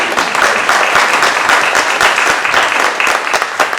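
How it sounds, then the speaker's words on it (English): An audience at a COVID-19 trauma workshop applauds its panelists, a dense, even wash of many hands clapping steadily and loudly throughout. "Give them a round of applause."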